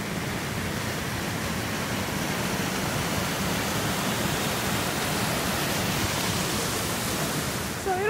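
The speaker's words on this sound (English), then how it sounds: "There's a small waterfall" A small waterfall pours in a steady, dense rush of water, close and constant from start to finish, with no speech over it.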